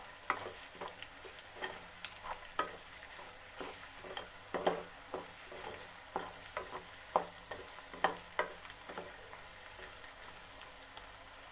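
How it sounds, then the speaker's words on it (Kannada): Coriander powder and garam masala frying in a pan on low flame for soybean gravy, with a soft sizzle and a steady run of light tapping spoon strokes throughout. "ಸ್ವಲ್ಪ ಹೊತ್ತು ಫ್ರೈ ಮಾಡ್ಕೊತೀನಿ."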